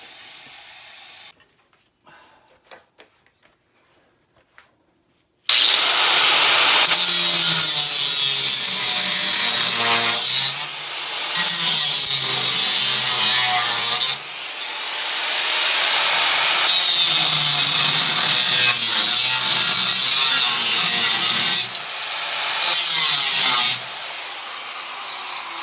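A power saw cuts straight across the front frame rail of a 1951 Hudson, a loud, harsh, continuous grinding rasp that surges and dips in long passes after a few quiet seconds of light shop noise.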